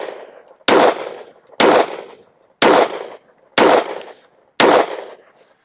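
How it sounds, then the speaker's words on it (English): Five loud, sharp rifle shots ring out about one second apart while a group is fired at a target during a red dot sight test, each crack trailing into a short decaying echo. "let's shoot a 5-shot group here just to confirm 0."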